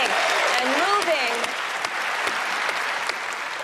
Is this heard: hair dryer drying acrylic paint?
no